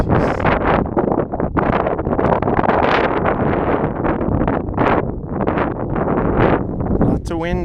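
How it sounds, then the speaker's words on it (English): Strong wind gusts roar steadily across the microphone at an exposed creek campsite, a loud continuous buffeting that barely eases for the whole stretch. "Lots of wind up here."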